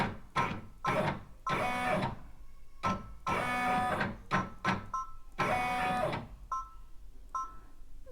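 An embroidery machine stitching out a name on a luggage tag, with bursts of rapid mechanical needle chatter separated by short pauses and soft whirring carriage moves, close and moderately loud, no talking.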